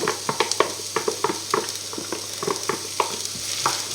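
Garlic and onion saute in a pan, a light sizzle under quick, irregular spatula scrapes and taps.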